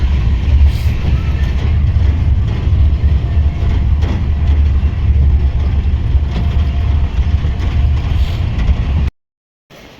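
A loud, steady rumble of a train at Vadodara railway station at night, with mechanical clanking and hiss, continuing unbroken before cutting off abruptly near the end.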